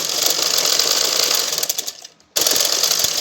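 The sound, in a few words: sewing machine stitching blouse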